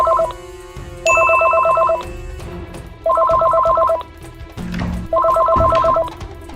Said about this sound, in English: I'm gonna play a phone call sound